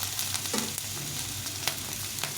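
Thinly sliced cauliflower frying in a small amount of oil in a pan, giving a steady close sizzle with a few faint clinks and stirring scrapes.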